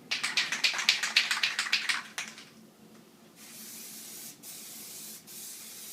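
Plasti Dip is sprayed from an aerosol can onto the stripes of a car, starting as a run of rapid short hissing bursts and settling into longer, steady close spray hisses with brief breaks.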